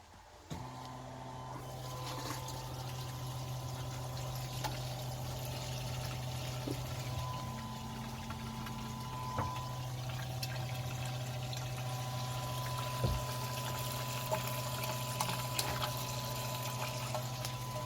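An electric fuel pump drains old fuel from a BMW E36 tank into a bucket, giving a steady, continuous whirring hum with liquid running under it, level and unbroken for the whole stretch in a garage.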